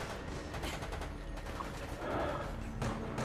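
Turret gunfire in the video game Operation Raccoon City, a steady, fairly quiet stream of rapid shots and mechanical clatter that runs throughout with no break.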